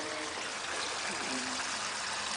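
Water runs steadily in a basement bedroom during a storm drain water test on the side of a house, a constant hissing trickle with faint low rumble underneath.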